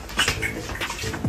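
Hot water is poured from a container onto a person on a film set, a close, splashing gush with a brief clink of metal, ending in a louder rush.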